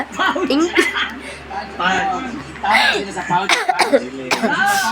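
Someone with a cold coughs repeatedly indoors while cleaning the house, short harsh bursts mixed in with talking and a little laughter.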